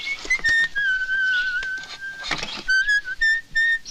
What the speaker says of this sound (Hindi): जब मैं खुश होता हूँ तो सीटी अपने आप बजती है